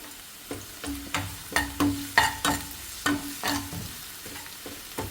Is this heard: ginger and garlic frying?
yes